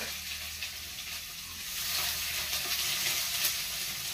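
Onions fry in a pan with a dense, steady hiss that grows slightly louder partway through, heard up close with faint scattered crackles and no voices.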